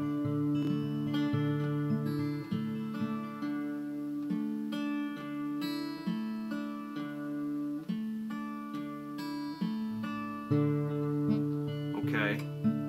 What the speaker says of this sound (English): we just play that picking pattern that I just showed you